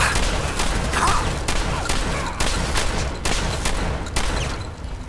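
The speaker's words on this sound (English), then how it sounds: "Where am I getting shot from?" Gunfire in Fallout 4 on Legendary difficulty, with rapid bursts of shots cracking repeatedly at the player for several seconds, dense and loud with no talking.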